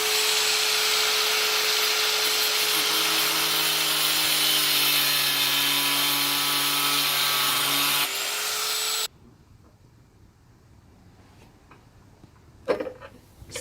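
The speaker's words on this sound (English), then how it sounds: "So we're gonna chop, I should measure how much we're gonna chop, eh? So we're gonna get grinder out." An angle grinder cuts through metal to fit wheels, a loud steady high-pitched whine for about eight seconds that then cuts off, leaving quiet workshop noise with a clank near the end.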